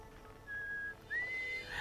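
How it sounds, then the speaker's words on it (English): Whistling near Attlerock in the video game Outer Wilds, two faint sustained tones, the second sliding upward, heard over a quiet background. "You can tell from the whistling."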